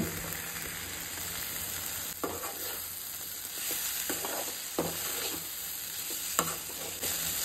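Fried vegetables with chili powder and garam masala are stirred in a hot pan; a constant sizzle carries several distinct scraping spoon strokes at irregular intervals, up close.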